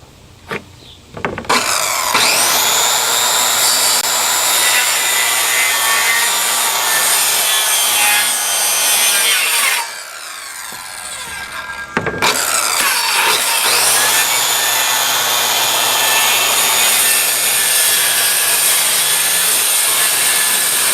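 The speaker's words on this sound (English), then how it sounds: "Okay, we're going to do our two miter cuts, because since everything's on a 45 degree making those turns," A saw makes two miter cuts through wood for a kitchen corner cabinet: two long, loud, steady rasping runs, each around eight seconds, separated by a brief quieter pause.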